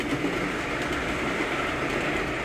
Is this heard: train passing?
yes